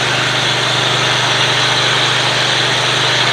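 A 24.5 horsepower commercial grade engine runs at a steady idle, a close, loud, even mechanical drone with a low hum throughout and no voices.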